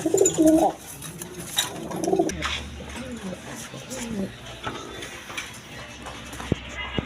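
Fancy-breed pigeons cooing in a loft, soft low coos near and repeated, mixed with someone talking over them and some handling noise.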